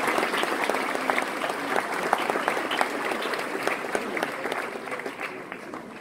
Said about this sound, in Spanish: Con el aplauso, señoras y señores.